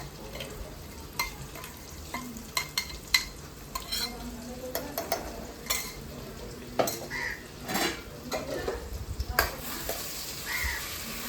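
Kharda spice paste sizzles in hot oil while a spoon stirs and scrapes the pan in quick irregular knocks and clinks, a soft frying hiss beneath, close by with no talk.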